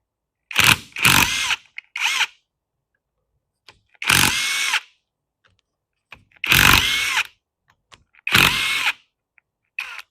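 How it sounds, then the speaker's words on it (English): An impact wrench takes off the pump head bolts on a lowrider hydraulic setup during a shaft seal repair, firing four loud, rattling bursts separated by short pauses, with no talking. "I am going to use a impact to take these off"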